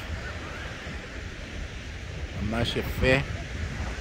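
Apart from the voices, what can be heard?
sea waves at a beach below a cliff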